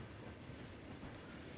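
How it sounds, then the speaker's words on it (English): A train passes on a busy line in the game Transport Fever, a brief steady rumble of rolling wheels and carriages, fairly faint. "See, another train."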